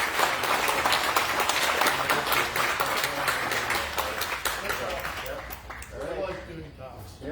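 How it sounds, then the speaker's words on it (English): An audience applauds after a talk on telescopes: dense, steady clapping from a crowd that fades toward the end, with a few voices coming through under it. "let's please give Dr. Lauroesch a big round of applause"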